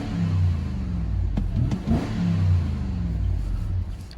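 A 2007 Lexus GX 470's 4.6-liter V8 runs steadily close by, its low rumble rising and falling through a few mild revs over about four seconds, with no one talking.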